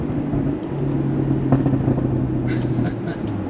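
A 2016 Porsche Boxster Spyder idles nearby with a low, steady exhaust burble and a faint clatter through it.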